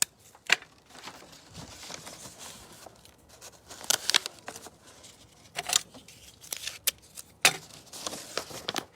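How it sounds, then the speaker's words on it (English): Tape is pulled and pressed as a large paper rectangle is fastened to a bottle, giving a series of brief crinkles, rips and taps scattered at irregular intervals over quiet background. "we're going to take the large rectangle piece and we're going to tape it to our bottle."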